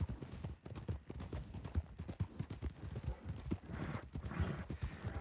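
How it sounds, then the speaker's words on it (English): Horse hooves gallop in a steady, rapid clip-clop through a video game scene, loud and close for the whole stretch, with a brief whinny-like sound and faint voices in the background. "My horse is getting tired."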